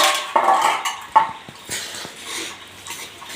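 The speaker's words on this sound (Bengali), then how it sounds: "ঢাকনাটা তুলে দেব" A lid lifted off a pot of small fish curry cooking on the stove, giving several close metallic clinks and knocks, followed by quieter soft rattles.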